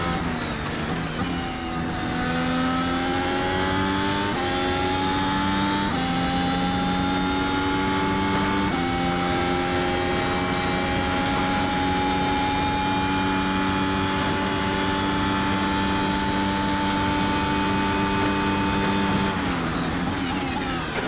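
Mercedes F1 W13 racing car engine in the iRacing simulator, screaming loudly through a lap with repeated upshifts and sustained high-pitched revving, ending with a sharp drop as the throttle lifts.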